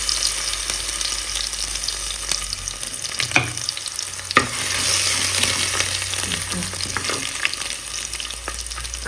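Chopped ginger and garlic frying in a little coconut oil, a constant bright sizzle up close with a few sharp spatters and occasional clinks of a utensil.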